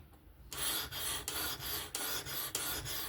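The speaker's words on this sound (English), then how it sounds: "Now we are sharpening, but we are refining our scratch pad." Kizer October 20CV folding knife blade drawn across the abrasive of a Work Sharp Professional Adjust sharpener, a steady close scraping rasp in repeated strokes of about half a second with brief breaks between passes, no talk.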